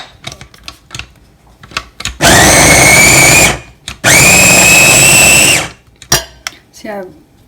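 An electric chopper whirs loudly in two bursts of about a second and a half each, chopping green chilies and ginger for an instant amla pickle, with clattering and handling noises around the bursts.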